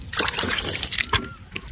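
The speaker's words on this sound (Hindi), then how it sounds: "इसको भी हम लोग पानी डाल लेते हैं" Water splashes and sloshes as it is poured onto a potted plant, a close, brief run of wet splattering with a few distinct spills.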